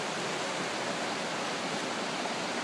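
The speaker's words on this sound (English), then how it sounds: "And some rapids right below." Rapids in a state park flow over rocks, a dense, steady rushing roar of whitewater heard alone without pause.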